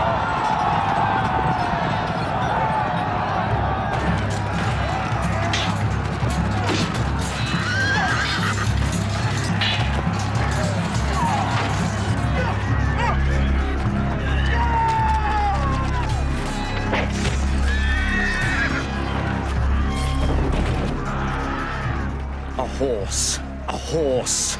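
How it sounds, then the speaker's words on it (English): In a dramatic battle scene, a horse whinnies repeatedly while hooves clip-clop and thud at a quick pace amid loud shouting voices and crowd clamor, the animal sounds close and mixed with talk. "My kingdom for a horse."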